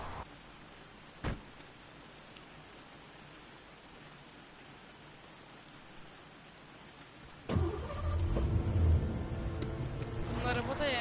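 A car engine in the PlayStation 4 Pro game Heavy Rain rumbles in loudly after a long stretch of quiet hiss, holding a steady low drone to the end.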